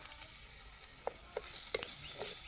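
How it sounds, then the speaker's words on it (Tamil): Ginger garlic paste sizzling in a pan with fried onions for a cauliflower gravy, a steady close frying hiss with a few brief stirring scrapes and no talk. "இந்த ஸ்டேஜில் இஞ்சி பூண்டு பேஸ்ட் ஆட் பண்ணிக்கலாங்க."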